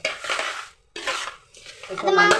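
A spice mix for raw mango pickle is stirred in a pot, making scraping, clattering spoon-on-metal sounds in two bursts with a short pause between them, followed by a brighter rattle toward the end.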